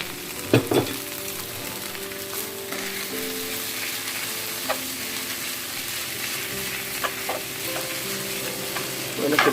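Chicken, shrimp and noodles sizzle and hiss in a hot pan with sauce as a utensil stirs and scrapes, a steady close frying noise with a few sharper clanks.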